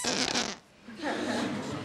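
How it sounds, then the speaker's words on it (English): A short fart from a person, a brief buzzy burst followed by a pause and a second longer, rougher stretch, with a voice present. "Quit farting, baked bean bum."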